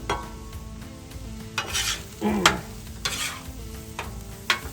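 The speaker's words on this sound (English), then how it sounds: "Mix that up really good there." A turkey stuffing mixture is stirred in a pan over a faint sizzle, with repeated scraping and sloshing strokes and a few light clinks of the utensil, close and moderately loud, with no talking.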